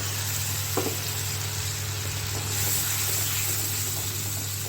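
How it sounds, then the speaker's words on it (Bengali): Tomato, ginger and green chili paste fries into spices in a pan over a medium flame, a low, even sizzle with a faint hum and an occasional light stir. "এরপরে যে আমি টমেটো, আদা, কাঁচা লঙ্কা পেস্ট বানিয়েছি সেটা দিয়ে দিলাম"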